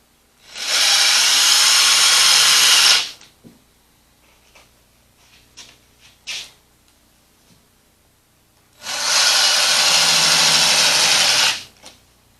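A power drill drives screws into the legs of a wooden hammock-style pet bed, two loud sustained whirring bursts of about two and a half seconds each, separated by quiet handling clicks and taps.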